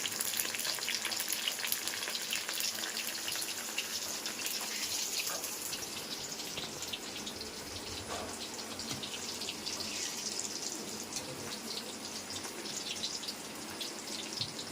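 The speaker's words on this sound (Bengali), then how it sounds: "এখানে আলু ভাজছি প্রায় হয়ে গেছে ভাজা" Potatoes frying in a pan give a steady, fairly faint broadband sizzle that holds evenly throughout, with no voices over it.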